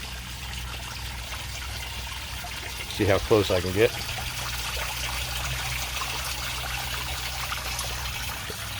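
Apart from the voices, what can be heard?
water trickling over rocks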